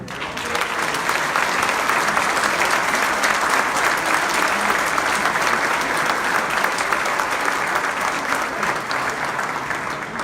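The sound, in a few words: audience applause after a conference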